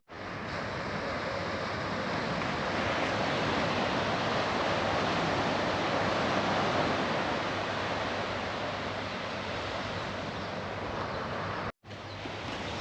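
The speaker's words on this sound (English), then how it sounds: "you make me feel home, you know, just hearing the waves" Steady roar of ocean surf washing onto a beach on Lanzarote, broad and continuous, with a brief dropout near the end.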